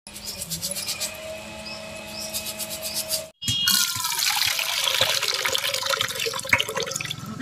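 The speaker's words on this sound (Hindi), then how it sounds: "यहाँ पर मैंने चावल लिया हुआ है तो चावल को हम पहले धुल के साफ कर लेते हैं।" Rice being washed in water in a home kitchen, with splashing and swishing of grains and running water, continuous and close, a brief gap midway before vigorous sloshing resumes.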